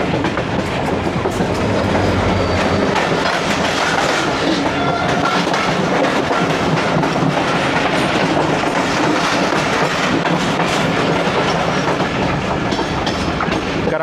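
The Mehran Express passenger train, running from Karachi to Mirpur Khas, rolls past close by in Pakistan with loud, continuous rumbling and rhythmic clickety-clack of wheels over rail joints. The sound holds steady throughout and no one speaks.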